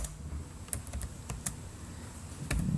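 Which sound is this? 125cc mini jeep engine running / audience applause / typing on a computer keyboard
typing on a computer keyboard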